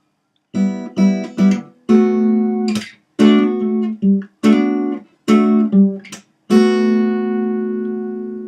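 A clean electric guitar plays a short repeated riff of quick plucked notes with hammer-ons and pull-offs, ending on a long ringing chord.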